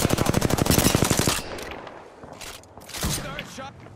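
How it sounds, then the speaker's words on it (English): Rapid automatic gunfire from the battle-royale shooter Apex Legends rattles loudly in a tight burst, then drops to scattered quieter shots and game effects while a player talks over it. "Firing."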